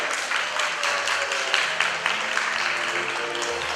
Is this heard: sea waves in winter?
no